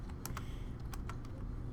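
Keys clatter as someone types a document in Word on a computer keyboard, a quick, uneven run of sharp clicks up close over a steady background hiss, with no talk.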